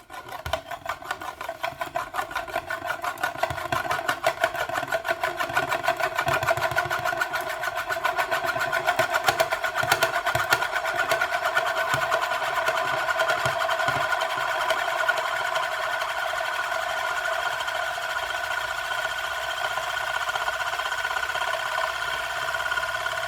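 An Euler's disc spins on a hard surface with a steady, whirring metallic rattle that builds quickly and holds at a sustained buzz for about twenty seconds.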